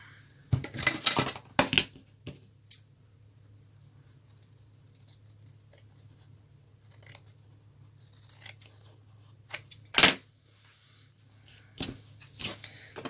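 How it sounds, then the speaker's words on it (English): Scissors cut fabric for a face mask, with clusters of crisp snipping and crunching slices near the start, then sparser snips and rustles spaced out across a quiet background hum. "Fold that in half and cut that out."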